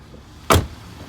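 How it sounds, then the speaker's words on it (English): An Audi car door slams shut with one solid, close thud in an otherwise quiet setting. "All done, shut the door."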